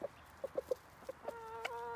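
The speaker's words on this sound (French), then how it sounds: "Les poules se ruent sur l'appel du coq, sur ces petits déchets plutôt de coquilles et un peu de pain." Hens cluck in short, sharp bursts as they rush toward eggshell scraps and bits of bread. The rapid, close clucking ends with a longer, drawn-out call.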